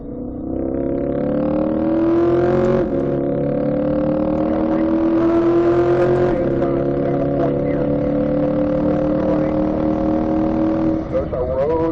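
A C8 Corvette accelerates hard around the Spring Mountain track near Las Vegas, its loud engine note climbing steadily and dipping briefly at each upshift into fifth gear, close and continuous.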